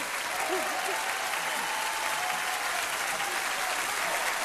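Audience applause at a cabaret show, a dense steady wash of clapping from a crowd that fills the whole stretch without pause, with faint voices underneath.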